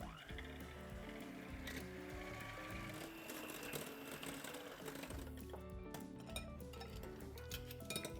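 A steady mechanical whir of an electric mixer whipping cold cream to stiff peaks runs throughout, with faint metallic clinks against a bowl.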